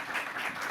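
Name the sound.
audience applause for a panel speaker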